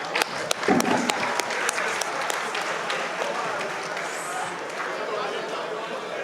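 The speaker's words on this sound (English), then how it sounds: "Please a round of applause for our living heroes." Crowd applause at a birthday celebration gathering, dense clapping with a few sharp louder claps early on, sustained and fairly even before thinning slightly, with faint chatter underneath.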